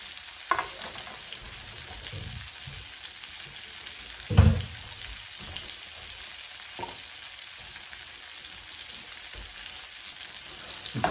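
A strip cheese quesadilla browns in a non-stick skillet, giving a steady soft sizzle throughout, broken by a few louder utensil scrapes and taps, the clearest one near the middle.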